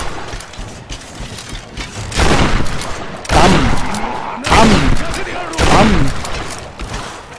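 Gunfire in the action video game Tomb Raider: loud bursts of rapid shots and mechanical weapon clatter come in several separate volleys a second or so apart, with an excited voice talking between and over them.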